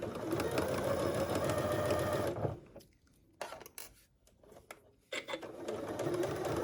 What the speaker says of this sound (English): to stitch these sides, right sides together, and I'm going to use a 1/4 inch seam allowance